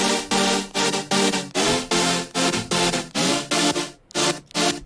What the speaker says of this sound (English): So the chords by themselves sound like this.